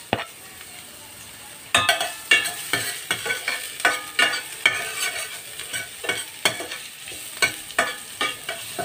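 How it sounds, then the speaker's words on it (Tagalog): Garlic and onion sauté in a hot pan as a spatula stirs them, starting with a faint sizzle that jumps to a loud hiss, then rhythmic scraping strokes repeat over the steady frying. "hahaluin para maging golden brown"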